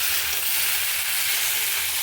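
Fish head frying and being stirred in a hot pan for a squash curry, a steady broad sizzle that stays loud and even throughout with no voices.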